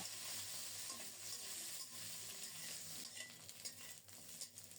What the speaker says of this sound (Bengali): ফোড়নটা রেডি হলে পটলগুলো দিয়ে দিলাম।